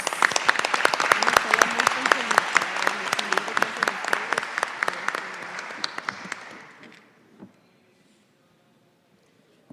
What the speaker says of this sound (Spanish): Yo creo que merecen un aplauso porque nos han atendido mucho.